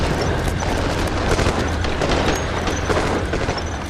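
A grenade blast and sustained gunfire in a war film crash in a dense, loud, continuous barrage of rattling shots and booms with no pause.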